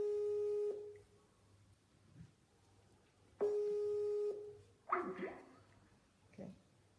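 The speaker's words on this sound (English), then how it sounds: "It was ringing on Skype too." A Skype call rings out unanswered: two long, loud, steady electronic ring tones separated by a pause, followed by a few faint clicks and knocks.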